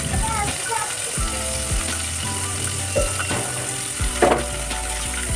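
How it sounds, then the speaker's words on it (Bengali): Paneer, full-cream and cut for palak paneer, frying in melted butter in a pan, giving a steady close sizzle with low humming and a few scraping clicks, no talk. "মাখনটা যখন গলে যাবে এর ভেতর আমি পনিরটাকে ভেজে নেব"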